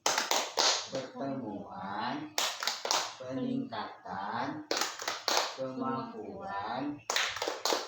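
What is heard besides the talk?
group clapping chant (tepuk P2K2)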